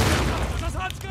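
A shotgun blast in the video game The Last of Us Part II, one loud booming report with a dense rumbling tail that fills the short moment, overlapping game sound.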